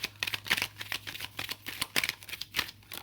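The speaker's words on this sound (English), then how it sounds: "we're going to get a couple of shuffles" Tarot cards are shuffled in quick riffling bursts, crisp papery flutters repeating at close range with no talking.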